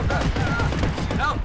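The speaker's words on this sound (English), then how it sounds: "I bought an APS rifle with the harpoon gun now" APS rifle gunfire in the underwater shooter game Depth, a dense, rapid, continuous stream of muffled shots, loud and close, with people speaking over it.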